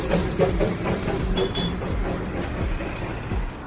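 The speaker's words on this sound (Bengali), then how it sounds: "তো এই হচ্ছে দার্জিলিং স্টেশন" At Darjeeling railway station, a train gives off a steady rumble with a rhythmic, clattering knock, fairly loud and close, with a faint hiss in the background and no talking.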